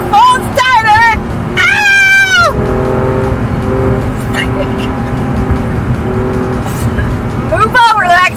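A 2020 Alfa Romeo Giulia Quadrifoglio engine fires up and revs hard, a loud sustained roar with rising and falling pitch sweeps, while excited voices and shouts cut in over it at the start and end.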